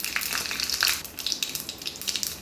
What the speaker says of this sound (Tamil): எண்ணெய் சூடாகிடுச்சு கடுகு உளுந்த பருப்பு போட்டுக்கோங்க வரமிளகா போட்டுக்கோங்க